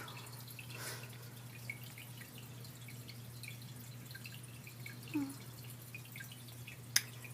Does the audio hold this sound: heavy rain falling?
no